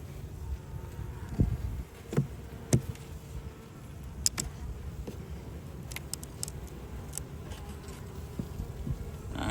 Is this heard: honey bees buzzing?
yes